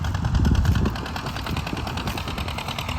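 Old Oliver tractor engine running steadily down a field row at a plow day, a rough mid-pitched rumble with a louder surge early on, then a constant chugging drone with no talk.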